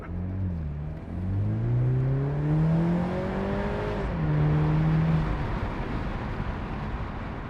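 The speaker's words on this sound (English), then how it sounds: "you feel almost 300 pound-feet of torque on that acceleration with the twin turbo kicking in" A 2021 BMW Z4 sDrive30i, a rear-wheel-drive convertible with a twin-turbo four-cylinder, accelerates hard. Its engine note climbs steadily in pitch, drops briefly at a gear change and then pulls again, heard loud and close with no talk.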